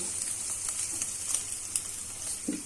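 Minced meat frying in a pan, about to have onions added, gives a faint, steady sizzle and crackle with a few small spatters, close and continuous, with no voices.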